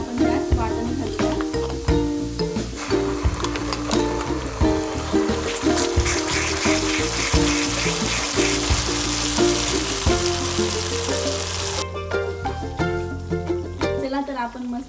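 Masala paste (vatan) sizzles steadily in a pan of fried onions while making misal, a continuous frying hiss running under music and a speaking voice, with the texture shifting near the end.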